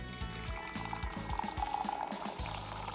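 Boiling water from a kettle poured into a big mug for strong tea, a gurgling, bubbling stream with rhythmic glugging pulses, close and fairly quiet, no voices.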